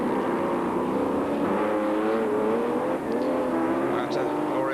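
Historic racing cars roar past at the Montlhéry circuit near Paris in 1991, a steady wash of engine noise with rising and falling tones as the field comes through, while a commentator talks over it.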